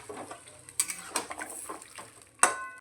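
A spoon scrapes and clacks irregularly in a pan while fish head curry with katla fish heads, potatoes and water is mixed, with sharp metallic knocks near the start and end.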